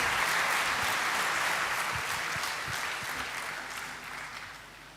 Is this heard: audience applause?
yes